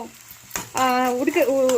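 Onions sizzle and fry in a pan, giving a steady crackle close by while a voice talks over it.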